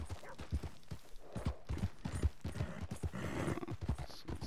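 Horse hooves clip-clopping at a steady walking rhythm in the Red Dead Redemption 2 video game, near and moderately loud, with faint ambient game sound underneath and no talking.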